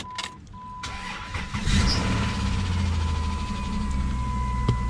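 A 2001 Chrysler 300M cranks and starts, then settles into a rough idle with a steady engine rumble and a faint ticking, close and fairly loud with no talk.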